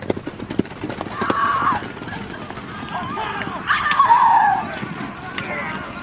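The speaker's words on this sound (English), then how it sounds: "Horse." A horse on a film set for a historical movie, heard as hoof clatter and a couple of whinnies at mid distance amid outdoor crew bustle, with voices around it.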